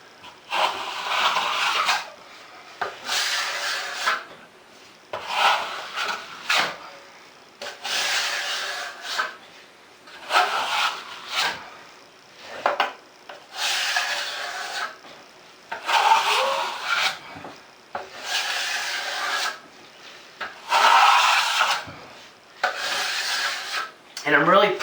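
A hawk and a 16-inch trowel skim joint compound across a wall, making rhythmic scraping strokes in a steady series of passes, each a rough gritty rasp with short pauses between them.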